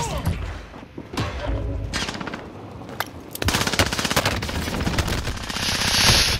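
SMG fire in an online shooter video game rattles in rapid bursts, with short volleys early on and then a long continuous stream of shots, loud and close, mixed with thuds.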